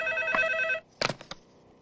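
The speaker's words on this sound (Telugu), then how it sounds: "ఏమయ్యో పిల్ల దగ్గర నుంచి ఫోన్ అనుకుంటా" A telephone rings with a bright, warbling electronic trill lasting under a second, then stops; a few sharp clicks and handling knocks follow in the quiet.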